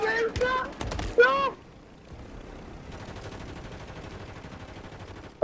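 Distant sustained gunfire in the shooter game Warzone rattles faintly in the background after a few loud shouted voices at the start.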